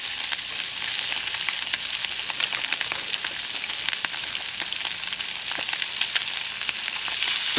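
Jalapenos sizzle in a pan over a hot wood-fired Solo Stove outdoors, a dense, steady crackling hiss with fine popping spatters running close and fairly loud, with no talking.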